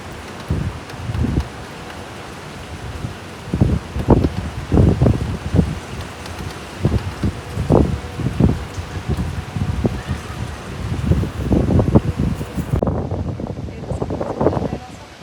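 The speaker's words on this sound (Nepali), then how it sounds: "अहिले हावाहुरी आइरहेछ" Gusty wind sweeps through foliage ahead of a cyclone, with rustling and buffeting microphone noise rising and falling in irregular bursts, loud and close throughout.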